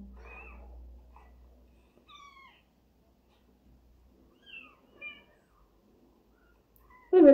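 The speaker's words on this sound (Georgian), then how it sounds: "აი მე ჩემი ფისო." A cat gives a few short, high meows spaced a couple of seconds apart, fairly quiet in an otherwise still room, with a sudden louder noise at the very end.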